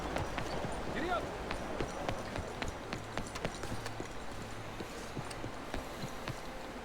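Horse hooves in Red Dead Redemption 2 beat out a steady, brisk clip-clop on a road, even and continuous across the stretch, with faint voices underneath.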